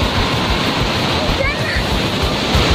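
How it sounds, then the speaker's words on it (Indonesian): Water spraying and splashing up from below at the Dumpil dam in Ngaringan, Grobogan, a dense, loud, continuous roar with wind buffeting the microphone. "Ini cipratan air tuh dari bawah."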